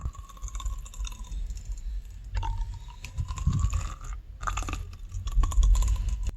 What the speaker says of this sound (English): Now it says to cover these two bleed holes here with your fingers and then just pump this up and down.